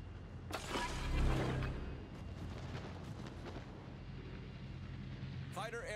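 Heavy naval gunfire in the warship battle game World of Warships. A deep booming blast swells early, then fades into a rumbling background with a brief tonal radio-like sound at the end.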